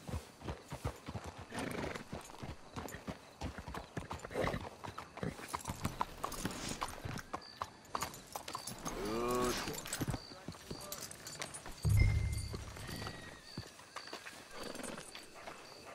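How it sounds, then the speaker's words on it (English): Horses in Red Dead Redemption 2 clop steadily on the ground throughout, with a whinny rising near the middle and voices talking over the hoofbeats. "Let's hitch your horses up ahead."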